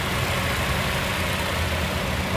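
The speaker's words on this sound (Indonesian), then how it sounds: "Untuk mesinnya suaranya ini halus banget" A 2017 Toyota Rush TRD with manual transmission idles with a steady hum, smooth and even, with a constant low rumble and no voices.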